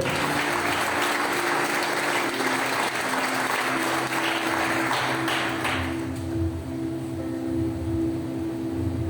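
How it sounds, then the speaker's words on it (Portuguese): A church congregation applauds during a Sunday service, dense sustained clapping that fills the room for about six seconds before thinning out into a quieter, hollow hall ambience with low rumble. "Você pode aplaudir o Senhor?"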